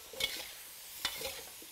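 Beef stir-fried in a wok gives two short bursts of scraping and sizzling as the meat is tossed, quiet and close with a gap between the strokes.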